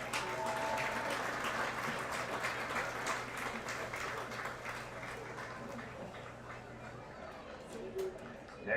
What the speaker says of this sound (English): A big round of applause for our 23-24 boys soccer team.